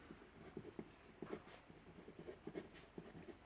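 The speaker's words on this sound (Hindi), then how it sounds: "तो यहाँ लिखेंगे माना रोहन" A pen scratches across paper in short strokes and bursts, close and quiet, with no speech.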